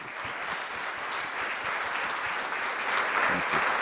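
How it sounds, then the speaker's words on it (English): A conference dinner audience gives a warm, sustained round of applause to welcome a guest speaker to the stage. Dense, even clapping fills the room steadily throughout and swells slightly toward the end. "please join me in welcoming Dr. Rajendra Pachauri to the stage with a warm round of applause"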